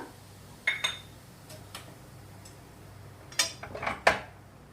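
Turmeric is stirred into a spice mixture for pickle, a handful of sharp spoon clinks and scrapes against a metal pan or bowl, sparse and close, with quiet gaps between them.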